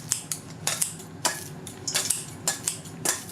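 Kitchen knife finely chopping freshly rinsed herbs on a cutting board, an uneven run of crisp, close taps and thuds, sometimes in quick pairs.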